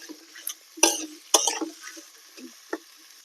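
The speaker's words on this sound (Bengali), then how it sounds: "এবারে লবণ দিয়ে ভালোভাবে নেড়ে ছেড়ে নেব।" Cauliflower mixture stirred with salt in a pan, a few sharp scraping and clanking strokes of a spatula against the metal with a faint sizzle between them, close and otherwise quiet.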